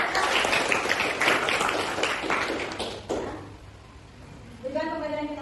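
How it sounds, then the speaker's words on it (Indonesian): Applause from a small group of students in a classroom breaks out, dense clapping that fades after a few seconds, followed by a brief whistle-like tone. "Beri tepuk tangan dulu buat Nur Faiza."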